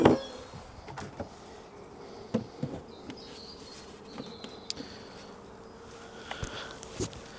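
Agitated honeybees buzz around an open hive during spring swarm-prevention work, a steady low drone with occasional louder passes of individual bees close by, with small bumps and handling knocks.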